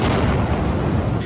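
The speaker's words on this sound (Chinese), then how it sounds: "伴随着剧烈爆炸" A missile strike on a building in Nuseirat, central Gaza, sets off a loud, sustained explosion whose deep boom and rumble fill the short stretch.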